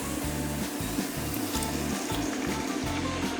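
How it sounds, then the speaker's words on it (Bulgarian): Water from a measuring cup poured into rice in a pot while cooking stuffed cabbage rolls, a steady close trickling and splashing stream lasting throughout, with no talking. "Сливаме водата"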